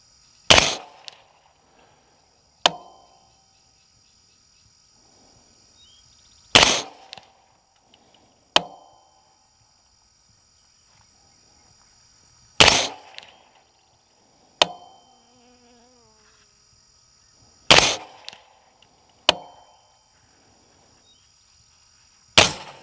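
Suppressed .300 Blackout subsonic 220-grain Sierra MatchKing rounds fire as sharp, dry cracks, each quickly followed by a second lighter snap, spaced a few seconds apart against a quiet background, with no talking.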